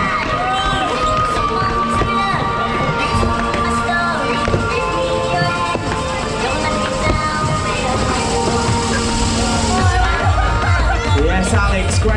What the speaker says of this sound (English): Give a cheer and a round of applause